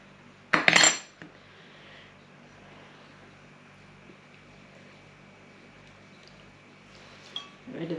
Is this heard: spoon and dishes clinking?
yes